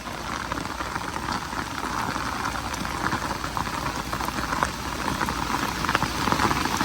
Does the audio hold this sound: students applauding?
no